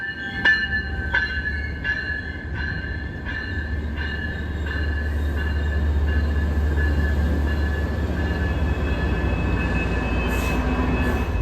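An MBTA Providence Line commuter train rolls along the tracks near Boston with a steady low rumble, rhythmic wheel clicks over rail joints and a faint squealing whine, heard from on board.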